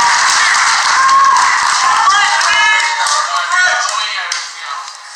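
Crowd applause for the wrestler Jeannine at a wrestling show: a dense, steady clapping that runs on for several seconds, then thins out and fades toward the end.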